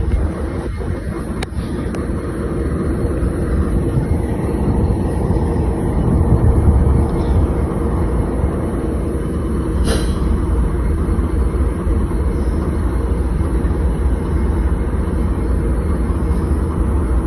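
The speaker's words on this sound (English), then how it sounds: "Here's the gravel train." A Norfolk Southern gravel train being loaded in Princeton, West Virginia, gives a steady, continuous low rumble and mechanical drone at close range, with a sharp clank or two early on and no talking.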